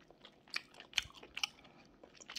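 Close, quiet chewing of soft glutinous rice sweet potato bread, a few moist bites and mouth sounds spaced about half a second apart with no talking.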